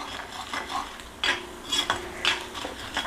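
Chana dal and urad dal fry in a pan while a spoon stirs and scrapes them in a few distinct strokes over a light background sizzle.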